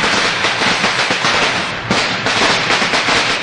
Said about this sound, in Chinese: 接下来要做的就是引爆炸弹